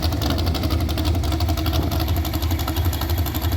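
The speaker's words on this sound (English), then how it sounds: "Small block Chevrolet on a tractor here." A small block Chevrolet engine mounted on a big farm tractor runs steadily with a deep, rapid pulsing rumble, close and loud, with no talk.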